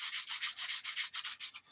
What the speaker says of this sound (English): You're watching a guy sand wood.